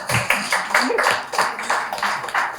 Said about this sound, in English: Can you please clap for her?